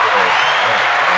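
A podcast audience applauds in a dense, steady wash of clapping that stays loud and continuous throughout the short stretch.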